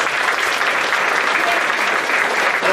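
Steady, close applause from a church congregation, dense and even clapping sustained without pause from start to finish.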